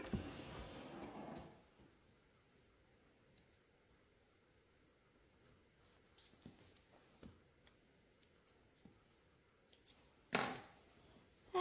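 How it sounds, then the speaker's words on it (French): Scissors snip loose threads off a sewn fabric pouch, small sharp cuts scattered through a quiet stretch, after an opening rustle of fabric and before a louder handling noise near the end. "Je vais nous couper tous les petits fils."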